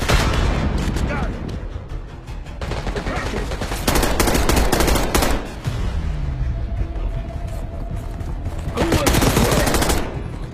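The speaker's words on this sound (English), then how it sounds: "Machine gun!" Machine gun fire in the video game Call of Duty: Black Ops 6, loud rapid bursts and scattered booms in a combat scene, repeating in clusters across the clip with some voices mixed in.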